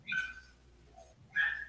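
Dogs bark in a residential neighborhood behind a speaker on a webinar call, two short barks about a second apart, heard faintly at a distance with no talk over them.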